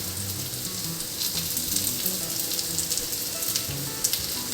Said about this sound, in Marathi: आपल्याला तळायची नाही आहे, शॅलो फ्राय करायची आहे.